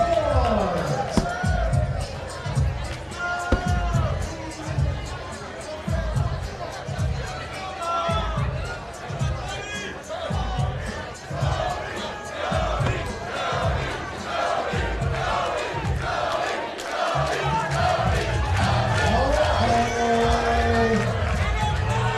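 A loud crowd at the Throwdown competition in Rock Hill cheers and shouts continuously, with rhythmic stomping and chanting under an announcer's hyped voice introducing the squads.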